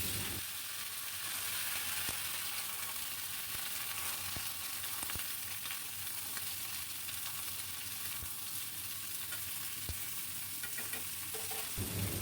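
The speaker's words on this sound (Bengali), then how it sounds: "অল্প নাড়াচাড়া করে আমি পুরো কেটে রাখা ঝিঙেটা দিয়ে দিলাম।" Chopped ridge gourd fries in mustard oil with dried red chillies and nigella seeds, a steady broad sizzle under occasional light scrapes of a spatula stirring the pan.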